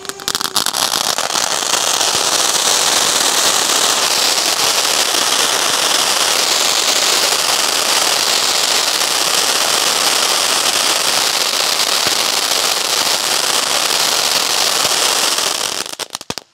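A cocktail firecracker bursts during Diwali, a loud, dense, continuous crackling barrage of rapid pops lasting about sixteen seconds before cutting off sharply, with no voices.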